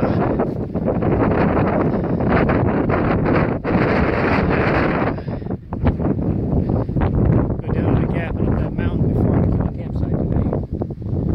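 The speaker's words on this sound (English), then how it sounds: "It's a little windy." Strong wind buffets the microphone continuously, a loud roaring gusty rush with rustling bursts throughout.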